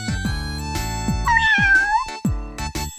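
A cartoon kitten lets out one clear, rising-and-falling meow while playing with a blue ball, set among bouncy, dropping tones that repeat before and after it.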